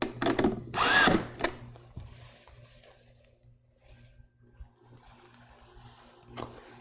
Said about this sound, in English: Now I can tighten them all the way down, at least to the driver stops.